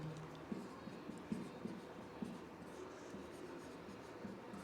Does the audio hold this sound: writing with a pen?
yes